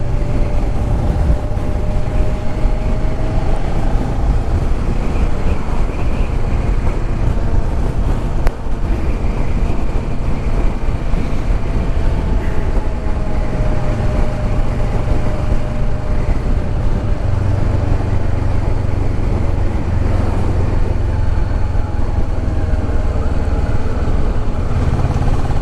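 A 2009 Kawasaki Ninja 650 on a test ride, its engine a steady, loud drone buried in constant wind rush throughout, with no talking.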